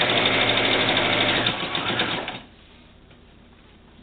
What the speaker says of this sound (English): Make sure that's getting sewn all the way over